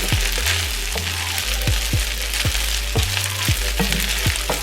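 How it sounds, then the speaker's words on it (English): Shrimp fried rice frying in an iron pan, a loud continuous sizzle with repeated scraping and tossing strokes of a utensil at an uneven rhythm, no voices. "You want it to just continue frying."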